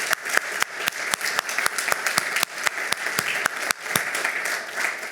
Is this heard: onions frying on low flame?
no